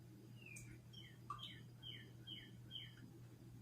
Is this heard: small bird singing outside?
yes